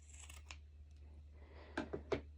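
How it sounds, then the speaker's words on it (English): Scissors trim excess bikini fabric in a few quiet, close snips, one early and three in quick succession near the end, over a low steady background hum. "of course I am going to trim the excess fabric"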